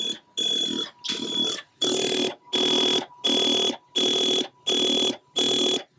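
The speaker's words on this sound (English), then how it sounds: "You can hear the high-speed SIO going to work." Atari 1050 disk drive with a Mini-Speedy high-speed SIO upgrade reads a disk, giving a rapid series of evenly spaced loud buzzing bursts, about one per second, separated by short gaps.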